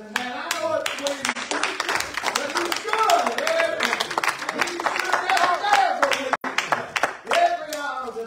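Church congregation clapping, sharp distinct hand claps in a quick uneven rhythm, close and loud, with voices talking and singing over them throughout.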